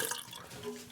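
Water from a tap splashes briefly over fingers to rinse off battery acid during work on a 1967 Harley shovelhead, a short, soft, close splatter.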